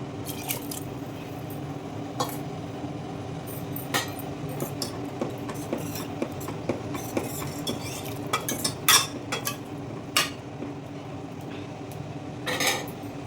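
Cooked radish-leaf dal being mashed in a pot with a metal utensil: soft squishing strokes broken by scattered clinks and scrapes against the pot, close and fairly quiet, with no talking.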